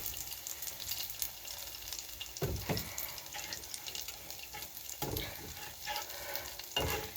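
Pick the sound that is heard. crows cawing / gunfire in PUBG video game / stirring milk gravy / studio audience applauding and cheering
stirring milk gravy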